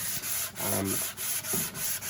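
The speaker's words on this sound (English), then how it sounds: "It's really just sort of buffing more than sanding." Steady rubbing of worn, dull sandpaper buffing over a wooden drum shell in several back-and-forth strokes, soft and close.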